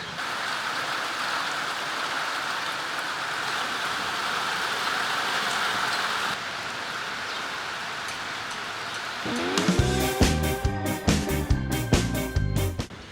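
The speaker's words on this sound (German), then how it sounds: "Natürlich an dem Tag, wo es am meisten regnet." Heavy rain hisses steadily on an outdoor stop during a bicycle tour for most of the stretch, then louder irregular tapping and rattling close by takes over near the end.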